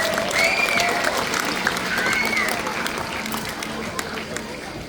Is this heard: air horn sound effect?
no